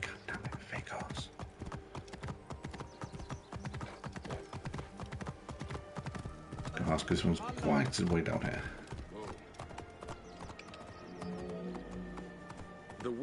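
Horse hooves clip-clop steadily on a wide city street in the Assassin's Creed Origins game, a continuous trotting rhythm under someone talking, with a brief neigh.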